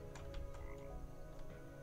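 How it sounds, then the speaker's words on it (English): Frog croaking inside the video game Starbound, a run of short rhythmic croaks over a steady low game ambience, fairly close and clear, with no talking. "Oh my god, it's a frog."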